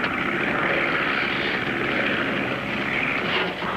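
Propeller airplane approaching, its engine drone steady and moderately distant, holding a continuous hum throughout with no voices.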